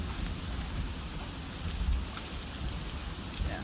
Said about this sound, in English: Is it ever raining?